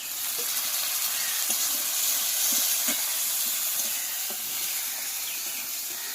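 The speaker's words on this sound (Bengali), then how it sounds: "দিয়ে দিলাম পেঁয়াজ কুচি, এগুলো ভেজে নেব। টমেটো কুচি দিয়ে দিলাম" Chopped onion and tomato fry in a pan with bay leaves, green chilies and five-spice seeds, making a loud, steady hiss and sizzle throughout with a few faint clicks.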